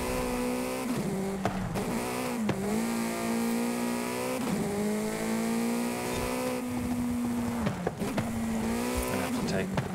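A race car engine in the racing video game Forza Horizon 5 holds a loud, steady drone, dipping briefly with each gear change, about four times, before settling back into its continuous pitch.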